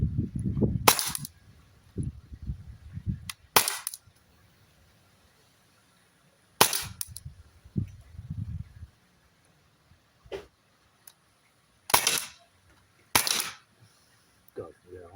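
Umarex Glock 17 Gen 5 gas-powered pellet pistol firing, six sharp cracking shots spaced irregularly over fifteen seconds, with people talking quietly in between.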